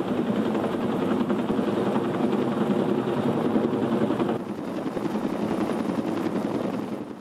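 A helicopter's steady rotor thrum and engine roar during a Forest Service wrap attack demonstration, loud and continuous throughout, easing slightly toward the end.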